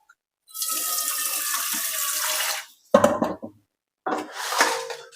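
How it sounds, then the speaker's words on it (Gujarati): Water pours steadily into a burnt cooking pot for about two seconds, then a short clatter follows, and a second brief burst of pouring or splashing comes after a pause. "હવે આ જે બર્ટન છે હવે એને એનામાં પાણી નાખી દઉં"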